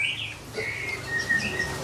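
White-rumped shama (murai batu) singing a series of bright whistled chirps and short phrases, fairly faint against a low background hum.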